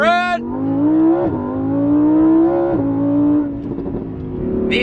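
A 2020 Lamborghini Huracan Evo, naturally aspirated and all-wheel drive, accelerating hard at full throttle from a launch, the engine note rising steeply through first and second gear with a brief dip at each upshift, loud and close.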